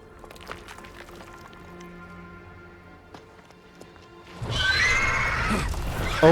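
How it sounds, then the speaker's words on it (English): A griffin in Dragon Age: The Veilguard lets out a loud, harsh, horse-like whinnying screech that bursts in after several seconds of quiet ambience with scattered soft clicks and thumps, ending with a sharp close hit. "Oh, it's the griffin."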